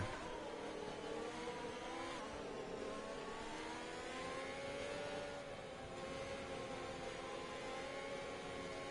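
Formula-style race car engine holding a steady high, whining rev in a racing video game, with continuous wheelspin as tires are spun to build heat; loud, sustained and unbroken, with no talk.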